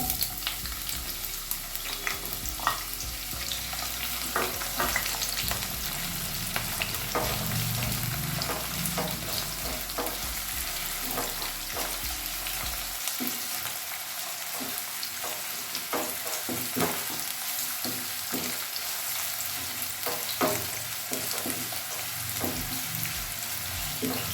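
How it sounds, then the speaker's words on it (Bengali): Chopped onions sizzle and crackle steadily in hot mustard oil for a chicken curry, a dense continuous frying hiss with occasional scraping stirs and pops, close and loud throughout. "তো তেলটা গরম হয়ে গেছে, এবার আমি পেঁয়াজ কুচিগুলো দিয়ে দেবো।"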